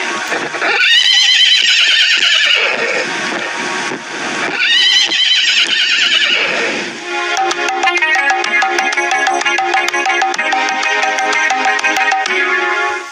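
A horse neighs twice, each whinny long, loud and close, before a bright jingling tune takes over for the rest.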